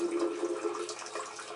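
Water rushing and splashing steadily as an electric water heater drains during removal, a continuous close hiss with no voices.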